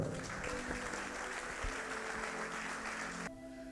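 Church congregation applauding steadily at a healing service, continuous dense clapping from a crowd in a large room, moderately loud, cutting off abruptly near the end.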